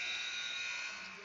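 A game-ending buzzer sounds at a high school varsity basketball game, a loud, steady electric buzz held for about a second and fading slightly toward the end, heard alone.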